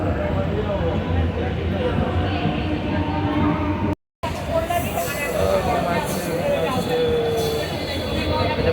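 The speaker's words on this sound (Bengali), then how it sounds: "ট্রেন গাড়ি করে যাচ্ছি, ট্রেন গাড়ি করে যাচ্ছি আমরা" Passengers ride inside a moving suburban train between Naihati and Bandel in West Bengal, with a steady loud rumble of wheels and carriage noise throughout and a brief dropout midway; people talk over the din.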